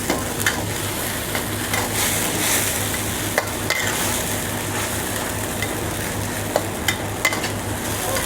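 Mushrooms with a spoon of oyster sauce stir-fried in a pan, giving a continuous loud sizzle broken by a few sharp clinks and scrapes of the utensil, close and without talk.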